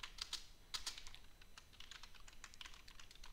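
Rapid keystrokes clatter on a computer keyboard, quiet and fairly close, coming in irregular bursts of clicks with no one speaking.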